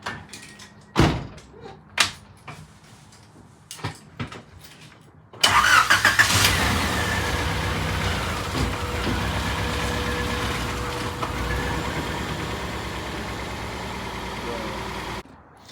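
Honda Civic with a B16 engine swap: a few sharp knocks and clicks come first, then the engine cranks, catches loudly and settles into a steady, close idle that runs to the end.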